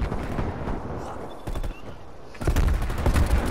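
A shotgun fires in Call of Duty: Black Ops Cold War amid ongoing multiplayer battle noise, with a few sharp reports early on and a louder, denser burst of firing near the end.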